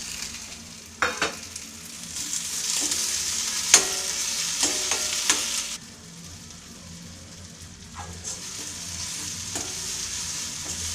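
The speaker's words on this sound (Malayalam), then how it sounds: "സവാളയും തക്കാളിയൊക്കെ ഒരുവിധം വഴന്നിട്ടുണ്ട്" Onion and tomato sauté in a pan for prawn fry, a bright sizzle broken by spoon scrapes and taps, easing to a quieter, steadier hiss after about six seconds.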